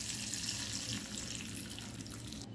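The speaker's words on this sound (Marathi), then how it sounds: "आता याच्यात थोडं पाणी टाकते।" Water poured into a hot pan of tempering with curry leaves for dhokla, a continuous hissing, bubbling sizzle at close range, with no talk over it.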